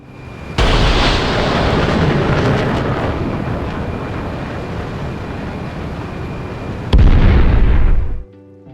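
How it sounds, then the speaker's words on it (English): A missile fires from an aircraft rail in a combat video game with a sudden loud roaring blast that holds as a steady, broad rush for several seconds, then swells again in a second burst before cutting off abruptly. "This time the missile is launched from a rail, so it only moves after it's off the rail."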